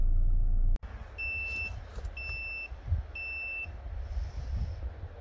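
A GOOLOO GT4000S jump starter beeps its dead-battery warning: three evenly spaced high electronic beeps after a sharp click, over a low background rumble, with no one talking.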